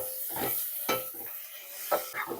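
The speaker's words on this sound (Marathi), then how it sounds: "टोमॅटो कांद्यासोबत थोडे परतून घेऊया" Chopped tomatoes and onions being sautéed in a pan for a prawn biryani, with a few distinct stirring scrapes and light sizzle, moderately close, no talking.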